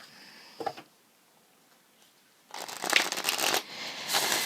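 A brief tarot card flick, a pause of near silence, then a longer burst of crisp, close shuffling of a 78-card tarot deck with rapid papery riffles.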